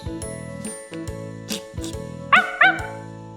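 A small dog gives a few short, sharp yips and barks, close by, over a steady tonal background, with a faint jingle.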